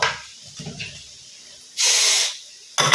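A pressure cooker cooking ghee rice lets off a loud burst of hissing steam lasting about half a second, after quieter kitchen clatter, and a second steam hiss starts right at the end.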